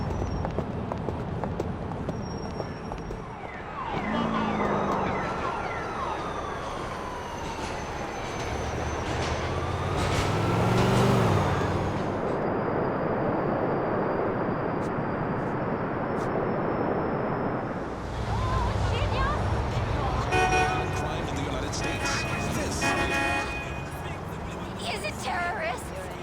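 City ambience from the video game GTA IV plays as a layered street soundscape. Traffic rumbles and whooshes, sirens wail, car horns sound, and brief rail-like squeals and swells rise and fall across a long stretch.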